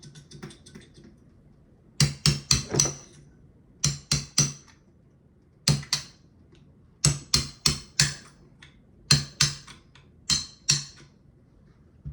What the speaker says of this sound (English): I gotta hammer that